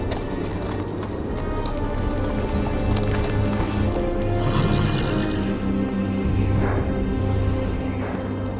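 A horse's hooves clip-clop steadily as it arrives at the Wall in the Game of Thrones PC game, close and continuous over wind and ambient game sound.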